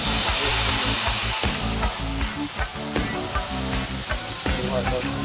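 Salmon fillets sizzle in a skillet set on an outdoor grill, a loud, steady frying hiss with crackling pops throughout, close up and with no talk over it.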